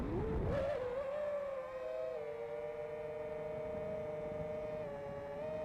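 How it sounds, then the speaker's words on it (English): A car engine holds a steady, droning hum after a quick rising note at the start, fairly close and continuous with no voices, heard outdoors during FPV drone flying. "I can hear a car coming in."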